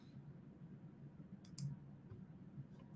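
A computer mouse clicks twice close together, crisp and brief, over a quiet room hum in an otherwise still moment.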